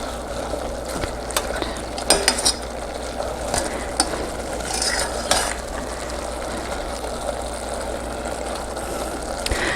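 A quarter cup of onion cooks in a pan for seasoned pork sausage gravy. It gives an even, moderately loud sizzle with occasional sharp clinks and scrapes of a utensil against the pan, and nobody speaks.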